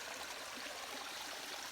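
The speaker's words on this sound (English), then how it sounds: "there's a creek here too. Some of the water has escaped the beaver dam." Creek water escaping a beaver dam in the Canadian wilderness flows and babbles steadily, a soft continuous rush and trickle with no voices.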